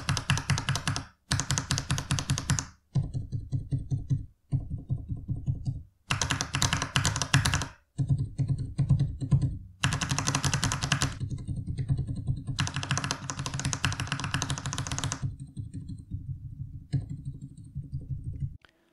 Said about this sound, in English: I think the keypad is undeniably very, very quiet.